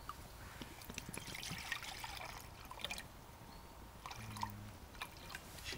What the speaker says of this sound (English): I pour some water into this.